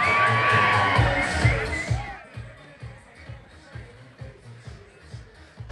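Crowd at a Preakness bikini contest cheering and whooping for a contestant, a loud burst at first that fades after about two seconds into lighter crowd noise and scattered voices.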